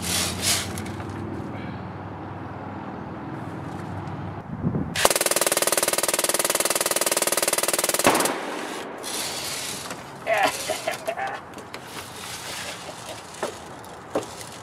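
A Drozd Blackbird BB machine gun, set to 800 rounds per minute, fires a sustained rapid burst of about three seconds, a dense buzzing rattle, with quieter mechanical clicks and handling noises before and after.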